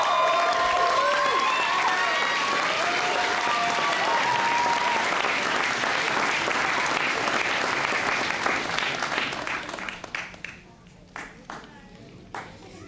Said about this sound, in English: another big round of applause for our graduates